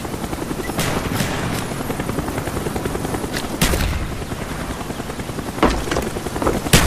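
Attack helicopter arrival in Call of Duty Black Ops, a steady rotor-and-engine drone running throughout, broken by several sharp gunfire-like bursts at roughly even intervals, loud and close in a busy game mix.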